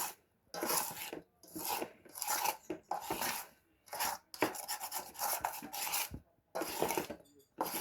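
Cake batter is worked around a bowl by hand, repeated rhythmic scraping and rasping strokes separated by brief pauses, close and fairly quiet.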